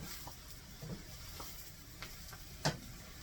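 Sausage and cabbage fry together in a pan with a quiet, steady sizzle, broken by a few sharp pops and a louder crackle near the end; no one speaks.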